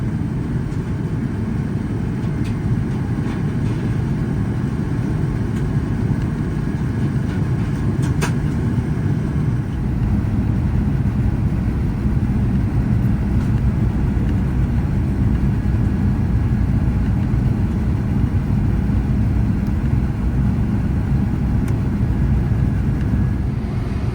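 Steady, loud low rumble of a Fiji Airways airliner's engines and airflow inside the cabin during its descent to land at Dallas, continuous and unbroken with no talk.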